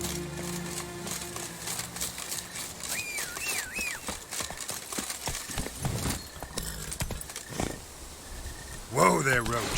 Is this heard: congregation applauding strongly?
no